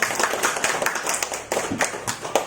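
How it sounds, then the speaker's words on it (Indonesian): A small audience claps at the close of a teacher's presentation, a sparse, uneven patter of individual claps rather than a full wash, fairly quiet and near. "Kita kasih tepuk tangan dulu yang meriah"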